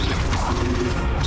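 An Expelliarmus spell cast in the Hogwarts Legacy video game, a brief loud mechanical crash and whoosh filling the whole moment.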